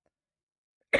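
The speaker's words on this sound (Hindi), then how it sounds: "सॉरी दोस्तों, खांसी आ गई थी।" A single short cough at the very end, close and abrupt after near silence.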